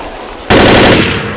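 Automatic gunfire in the video game Left 4 Dead erupts suddenly after a quiet moment, a loud, dense, sustained burst of rapid shots.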